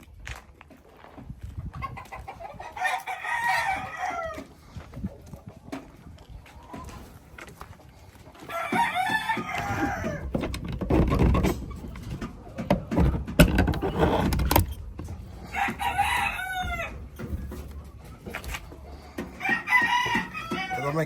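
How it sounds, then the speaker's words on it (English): Roosters crow repeatedly in Jamaica, several long cock-a-doodle-doos spaced a few seconds apart, over rustling farmyard noise and low background sounds. "the biggest white fowl, the biggest chicken you ever see"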